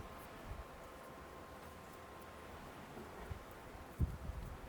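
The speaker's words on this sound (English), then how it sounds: "A little windy today" Steady wind rushes and rustles outdoors in Ridgecrest, low and constant, with a few faint thumps and knocks.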